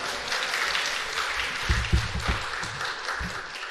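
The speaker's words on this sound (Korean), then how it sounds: "우리 선교사님 나오실 때도 할렐루야 박수로 환영해 주시면 좋겠습니다." Church congregation applauding to welcome a missionary to the pulpit: a steady wash of clapping from many hands, with a few louder low thumps and murmurs rising in the middle.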